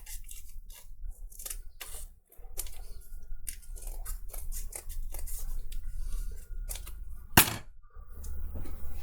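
Scissors snip through a cardboard Darth Vader helmet in a run of close, crisp cuts with short pauses between them and one sharp loud snap near the end, with no talk.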